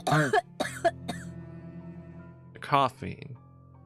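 A few sharp, harsh coughs close by, followed by a pause and another raspy cough burst.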